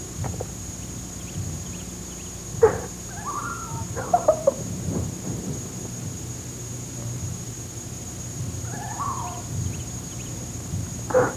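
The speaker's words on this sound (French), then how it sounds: "les oiseaux se sont mis à chanter" Several birds chirp and call intermittently over a quiet, hissy background, with short bursts of song scattered across the stretch.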